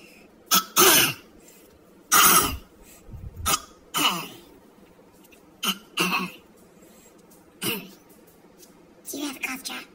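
A person coughs repeatedly in a movie theater, with several harsh bursts spaced irregularly across a quiet background, plus a brief throat-clearing sound near the end.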